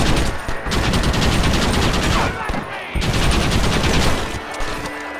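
Dense, rapid gunfire fills a shootout in the Western video game Red Dead Redemption, overlapping shots cracking nonstop at close range, with brief lulls and shouted voices mixed in.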